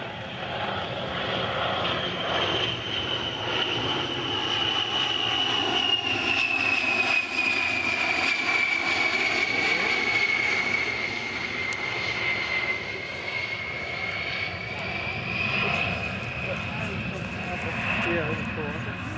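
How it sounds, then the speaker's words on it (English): A Harrier jet flies overhead at an air show, a steady loud roar with a rising and falling whine that sustains for the whole stretch, with voices faintly mixed in. "This is the Harrier jet."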